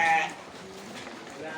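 Fat-tailed sheep from Sapudi, a superior bred stock, let out a loud bleat at the start, followed by fainter bleating and farm background noise.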